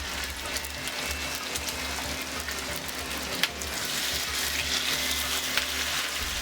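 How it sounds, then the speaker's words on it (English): Pork chops brown in very hot oil with a steady, dense sizzle and crackle that holds at an even level from start to finish, with a low background hum and no talking. "I'm going to brown the pork chops on each side for about 4 minutes"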